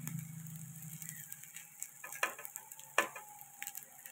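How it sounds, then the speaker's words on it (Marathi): Egg rice being stirred in a pan, with a soft sizzle under sharp scraping and clanking strokes of a spoon against the metal, several distinct knocks spaced irregularly. "असं हलवते"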